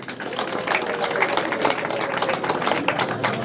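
A crowd at an operating theatre inauguration in Uvira applauds an engineer, a steady, full round of many hands clapping that continues throughout without a break.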